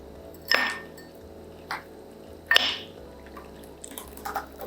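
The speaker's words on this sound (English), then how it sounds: "here I'm going to take my ice cubes" Ice cubes drop into a glass with two bright clinks about two seconds apart and a few lighter taps after, close up in a quiet kitchen.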